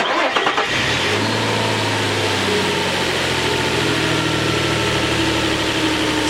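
Car engine with a low battery and a failing alternator cranks briefly, then catches and settles into a steady, loud mid-pitched running drone that holds for several seconds.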